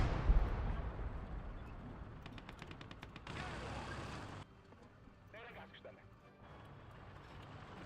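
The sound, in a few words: bombing run explosions in the video game Gates of Hell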